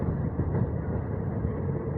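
A train running from Srinagar to Banihal in Kashmir gives a steady, close, low rumble that holds at even loudness throughout, with no voices.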